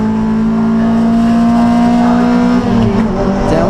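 Toyota MR2 race car accelerating along the straight at Silverstone during a championship race, a loud, close engine drone holding a steady pitch before a brief gear change and climbing again.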